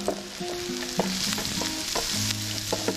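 Grated carrots dropped into a hot pan sizzle and fry steadily, with a few stirring knocks and scrapes over a continuous hiss.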